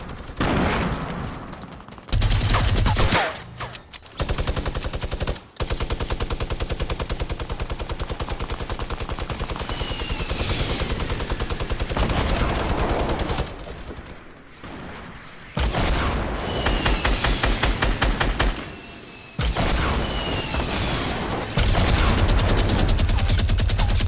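A minigun fires in Fortnite in long, rapid, continuous bursts, loud and close, broken by short pauses between volleys, with no talking.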